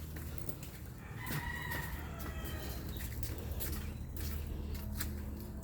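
Chickens cluck and a rooster crows in the grounds of a resort hotel, the crowing rising over a steady outdoor background with scattered clucks throughout.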